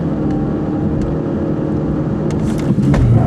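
A 2015 Ford Fusion with a turbocharged 1.5L EcoBoost engine pulls hard in a 0-60 mph run, heard from inside as a loud, steady engine drone and road roar with a few faint clicks.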